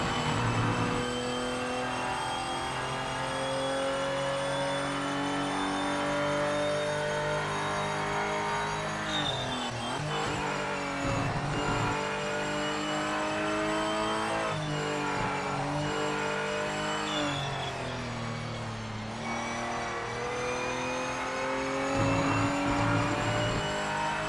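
Race car engine in Project Motor Racing heard from a bonnet-mounted view, a loud continuous high-revving whine that climbs through the gears, dips sharply on several shifts and braking points, then builds again.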